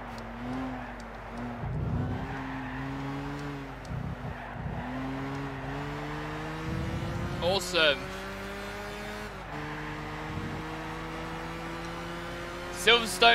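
Race car engines in Gran Turismo 6 on the Silverstone track, several engines droning and shifting pitch with gear changes, a few sharp tire squeals, while a person talks over the game sound.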